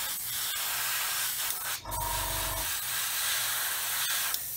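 Airbrush spraying black paint onto scale Land Rover model parts, a steady close hiss of air and paint throughout, with a brief low compressor-like rumble in the middle.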